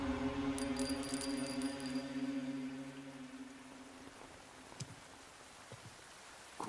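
Rain falling in the Metal Gear Solid Delta video game, a soft, steady patter that first sits under a low sustained musical drone and then carries on almost alone, faint, with a few light drips.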